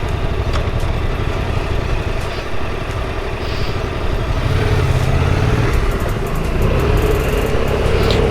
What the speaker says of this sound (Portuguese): a motinha tem um cantar muito fixe, sim senhora, aqui de categoria